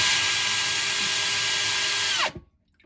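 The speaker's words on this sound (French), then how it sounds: "je vais faire mon deuxième trou pour mes fils de port USB" A power drill fitted with a wood bit bores into the resin cabin wall of a sailboat, a steady high whine for about two seconds that cuts off and spins down abruptly.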